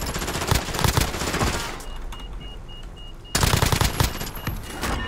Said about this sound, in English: Oh, someone else is shooting me from over that way.